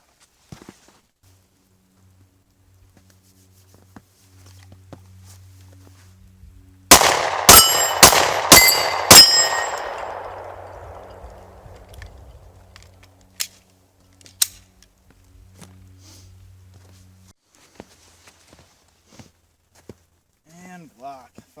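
A 10mm Glock pistol fires five sharp, loud rounds in quick succession at a shooting range, each crack ringing out briefly, followed by a few faint clinks and scattered small knocks in near silence.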